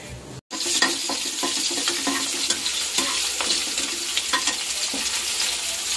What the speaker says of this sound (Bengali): এই যে এখানে মাছ ভাজা হচ্ছে